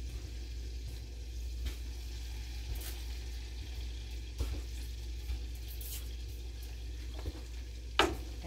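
Seasoning mixed with salt and oil stirred in a pan over low heat, faint steady sizzle with occasional soft scrapes and taps of the utensil, no talking.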